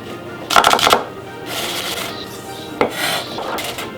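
A kitchen knife slices shallots into thin strips and then dice on a cutting board, producing quick bursts of rapid close chopping with short pauses between them and no talking.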